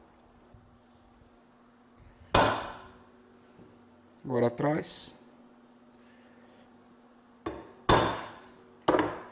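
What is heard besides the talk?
hammering a steel punch into a knife handle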